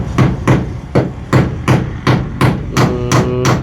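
Hammering on a car, roughly nine sharp strikes in a steady rhythm, loud and close, with a faint ringing metallic tail on the later blows and no talk.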